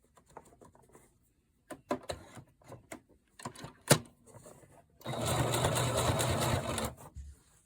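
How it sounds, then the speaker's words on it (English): Sewing machine stitching ruffle pleats into a fabric strip for blouse sleeves: scattered clicks and short needle bursts, then a loud, steady two-second run of stitching close up, with no talk. "So I finished sewing the pleats on the strip for the sleeves"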